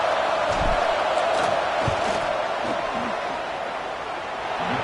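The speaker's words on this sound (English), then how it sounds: "This crowd trying to do its part to get inside the kicker's head." A packed football stadium crowd roars in a steady, loud wash of noise during a field goal attempt, with a commentator talking over it.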